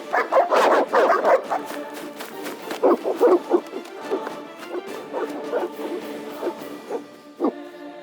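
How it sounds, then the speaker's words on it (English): Hostile dogs in The Witcher video game bark repeatedly in rapid, loud bursts, clustered barks followed by scattered yips and whimpers. "They're evil dogs."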